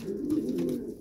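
Japițe horseman pigeons give a short, low, throaty coo, close and fairly soft, with no voices.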